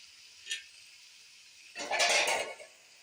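Chicken, yogurt and spices for biryani are mixed in a pot, with one short clink of a utensil followed by a brief burst of wet scraping and stirring up close.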